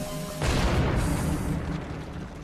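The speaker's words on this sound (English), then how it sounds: "nvestigate this principle, Michael and Peter use a replica cannon from the same era as Mehmet's bombards." A replica cannon of the same era as the Ottoman bombards fires a single loud, deep blast, followed by a long rumbling decay that fades slowly over the next two seconds.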